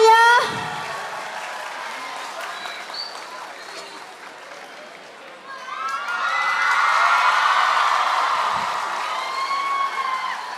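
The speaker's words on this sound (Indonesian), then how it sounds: "Tepuk tangan yang meriah semuanya." Crowd applause and cheering at a Nusantara cultural gathering on a university campus in Pekalongan, a loud burst early, then a steady wash of clapping that swells again with shouting voices and whoops, alongside some speech.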